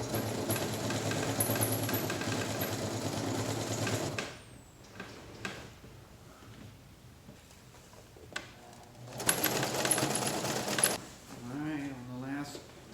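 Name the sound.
sewing a double seam through canvas layers for a yurt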